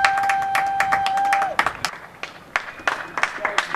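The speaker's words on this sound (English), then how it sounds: "Everyone's just outside, banging, clapping." Neighbours outside their houses clap and bang pans for the NHS at 8 o'clock, a scattered run of sharp claps and metallic knocks with a steady whistling tone and a murmur of voices behind.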